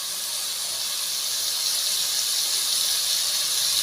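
Bitter gourd sautéing in a pan after oil is added, a steady bright sizzle that holds constant and fairly loud throughout with no talk.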